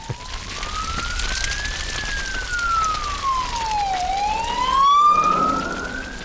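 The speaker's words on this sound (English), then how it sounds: "Oh, look, there's a fire engine" A fire engine siren wails past, its pitch sweeping up and down in slow cycles as it approaches and recedes, moderately loud against a background of traffic.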